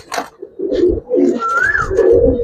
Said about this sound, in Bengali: খুব সুন্দর কবুতর ভাই